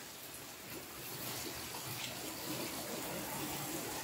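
Steady broadband rush of spraying, splashing water while washing a car, close and continuous, swelling slightly louder after the first second.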